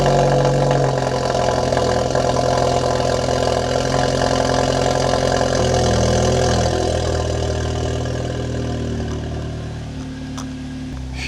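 An Audi engine with a burble exhaust tune runs steadily at idle, a loud, continuous low rumble with crackly texture that eases slightly toward the end.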